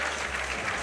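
Crowd applause for climber Slav at a men's bouldering semi-final in Genova, a steady, dense clapping wash throughout with a low hum beneath.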